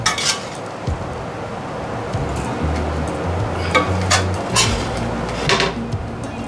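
Cooked lamb meat for samosa filling being moved into a bowl, with repeated clinks and scrapes of utensil against the dish over a low steady kitchen hum, a few sharper metallic taps standing out.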